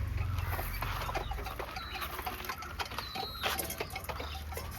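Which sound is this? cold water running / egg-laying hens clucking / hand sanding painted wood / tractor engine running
egg-laying hens clucking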